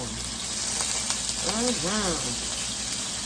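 Frozen onions sizzle steadily in a frying pan, a constant hiss with a short bubbling squeal midway, heard close up with no talking.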